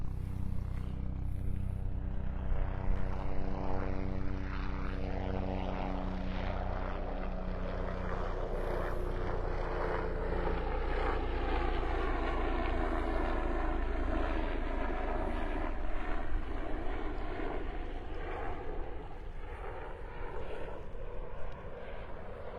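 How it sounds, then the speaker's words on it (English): A sheriff's helicopter passes overhead near Wiggins Pass in North Naples, Florida, its rotor and engine drone loud and close at first, then shifting in pitch as it moves away. "That was the sheriff looking for me in that helicopter."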